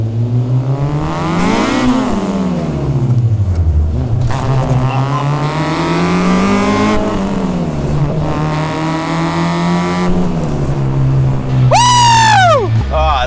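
A K-swapped Honda EG Civic on a mountain touge road revs hard and accelerates through VTEC, loud and close from inside the cabin. Engine pitch climbs and falls in repeated sweeps, then ends with a sharp high whining surge.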